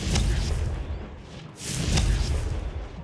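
Confringo fire spell explosion in the Hogwarts Legacy video game: two heavy, rumbling booms with a whooshing burst, loud and close, no talk.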